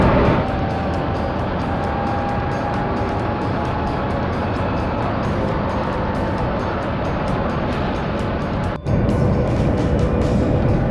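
A Renault Twizy electric car drives steadily on roads in Bermuda, giving a loud, constant road and wind roar with a brief dropout near the end and no voices.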